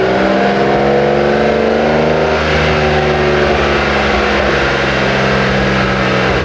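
A BMW M4 Competition runs hard on a dyno, its engine a loud, sustained, close drone with strong harmonic tones that hold steady and shift slightly in pitch, with no talking.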